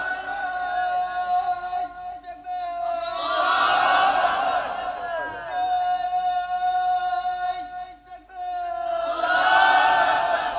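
At a Bangla Islamic waz sermon led by Pirjada Abul Basar, a large crowd shouts the takbir in unison, with two long, loud, sustained chanted responses separated by a brief lull.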